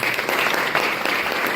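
A crowd claps loudly and continuously, an enthusiastic round of applause with no one speaking.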